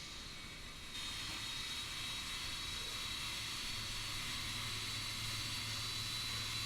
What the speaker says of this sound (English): Engine number 2 is starting.